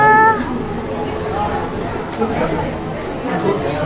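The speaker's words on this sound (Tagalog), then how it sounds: "Ito naman mga pusa." A cat meows briefly near the start, then a busy indoor murmur of people chattering fills the rest, at a place selling cats and dogs.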